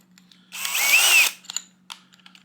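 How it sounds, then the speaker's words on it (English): Power tool driving a reamer to enlarge a hole in aluminum during a turbo build in a garage, one loud whirring burst of under a second, followed by a few small clicks and rattles. "I have a reamer that will probably work, but I don't think it's going to get me big enough"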